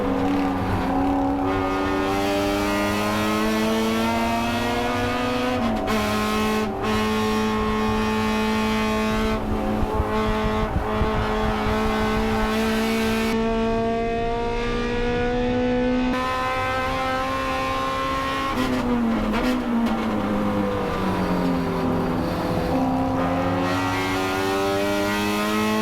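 Racing Honda Civics and a silver BMW on a circuit at a Midwest festival, engines holding steady high-pitched harmonic drones that rise and fall through gear changes, several cars overlapping, loud and continuous for the whole stretch.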